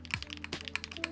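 Keys on a gasket-mounted mechanical keyboard clack in a quick, steady typing rhythm, close up and fairly muted against a faint background hum.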